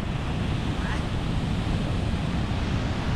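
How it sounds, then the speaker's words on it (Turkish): Big Pacific surf breaking at Puerto Escondido, a Mexican surf beach with professional surfers: a steady, loud roar of crashing waves and rushing water, with wind buffeting the microphone and no distinct pauses. "Burada daha büyük dalgalar var."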